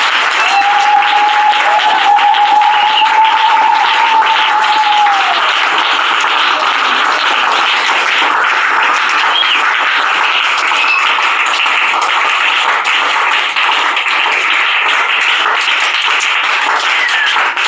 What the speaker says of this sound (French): On va encore acclamer pour le Seigneur Jésus-Christ